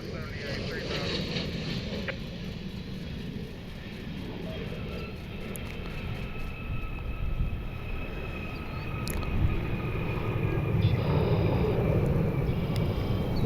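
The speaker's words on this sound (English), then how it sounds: "Another flex jet. I think it's a Praetor inbound." An Embraer Praetor business jet approaches to land in a gusty crosswind, its engine roar broad and steady, swelling louder toward the end amid outdoor wind noise, with people talking nearby.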